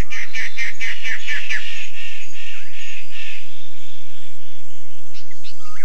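A Wallace's standardwing bird of paradise gives a loud, close series of rapid harsh crow-like caws for about three seconds, then a few fainter scattered calls follow.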